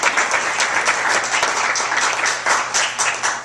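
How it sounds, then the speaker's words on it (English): Audience applause for a panel at an annual economic development forum in the Adirondacks, a dense steady wash of many hands clapping that fills the room evenly without pause. "So we can all have a round of applause for our panel."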